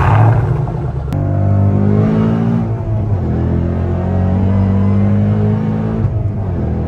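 A Shelby GT350 sports car fitted with a Borla Attack catback exhaust rumbles loudly and close, a deep burbling tone with revs rising and falling over several seconds.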